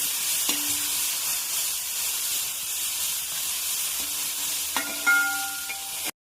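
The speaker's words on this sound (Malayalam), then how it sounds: "കുറച്ച് വെളിച്ചെണ്ണ ഒഴിച്ച് ഇതിലേക്ക് സവാള ഒരു ആറ് പച്ചമുളക് രണ്ടായിട്ട് കട്ട് ചെയ്തത്" Sliced onion and six halved green chillies frying in coconut oil for a Kerala duck roast gravy, a steady close sizzle with occasional stirring scrapes and utensil clinks, no talk.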